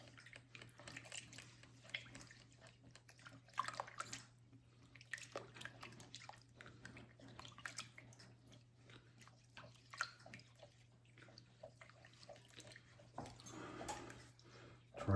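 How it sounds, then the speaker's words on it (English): Water, 375 grams, is mixed by hand with yeast for bread dough, giving faint, irregular wet clicks and small splashes over a low steady hum, with quiet voice in the background. "we're going to add our 375 grams of water, and we're going to mix these"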